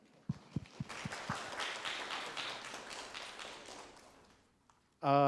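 At a 2021 graduation ceremony a few loud separate claps start off a soft, spread-out round of audience applause. The applause fades over about four seconds, and then a loud tone begins abruptly at the end.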